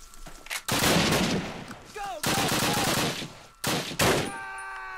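Long bursts of rapid automatic gunfire from a Call of Duty WWII match, loud and close, broken by short pauses, with a few game tones and a brief chime.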